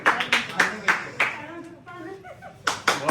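A few people clap hands in rhythmic bursts at a casual family birthday gathering, the claps fairly close and spaced with a short pause, while people talk in between.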